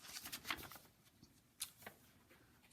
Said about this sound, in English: Let's get the page turned.